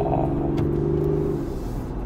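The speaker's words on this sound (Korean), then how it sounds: "3000 이상 높였을 때 이때 소리, 이 회전 질감 부드러운 거 봐요" A Land Rover Defender 90 with a six-cylinder diesel holds a steady, smooth, high rev above 3000 rpm. The hum is close and continuous, then eases slightly near the end.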